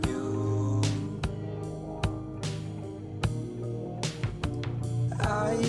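A full produced song plays alone, with a strongly pitched, heavily autotuned lead vocal over steady backing and periodic sharp drum hits.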